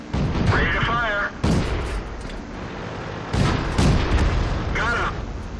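T127 tank cannon firing in World of Tanks on the Ruinberg map, heavy booming shots with rumbling tails, a couple of blasts spaced seconds apart over continuous battle noise and synthetic voice callouts.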